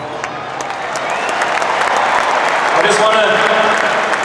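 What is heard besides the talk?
applause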